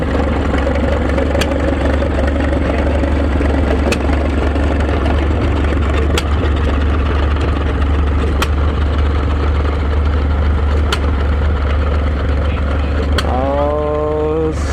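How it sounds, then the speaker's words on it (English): A small hit-and-miss gas engine runs steadily at a town parade, its low chugging thump continuous and fairly close, with crowd and street noise around it and a brief rising tone near the end. "Little hit and miss gas engine."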